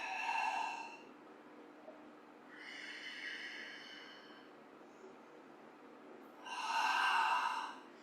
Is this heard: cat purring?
no